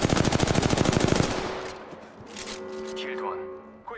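Rapid automatic gunfire in a battle royale shooter game, a loud, fast rhythmic burst for about a second and a half, followed by fainter game effects and a voice talking.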